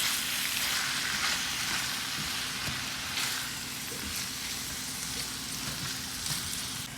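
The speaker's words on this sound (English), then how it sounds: "Okay, so while our beef is cooking" Beef sizzles and fries in a hot pan, a loud, continuous crackling hiss up close with occasional soft scrapes and pops, no voices.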